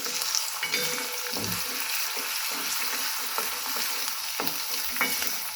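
Onions fry in a hot pan over a turned-up gas flame for palak kofta curry, giving a steady, loud sizzle with occasional stirring scrapes close by and no talking.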